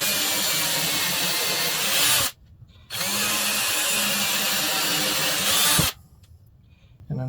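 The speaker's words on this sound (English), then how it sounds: "This is pre-drilling for the screws" Power drill pre-drilling screw guide holes in wood for a swarm trap platform, two long loud whining bursts separated by a short pause, close by.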